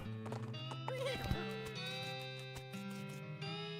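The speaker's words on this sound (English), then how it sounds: "You jump onto Roko's back and ride like the wind, following the railroad tracks back into the desert." Horse hooves clip-clop in West of Loathing as the rider follows railroad tracks into the desert, a steady trotting rhythm set under a loud, sustained musical score.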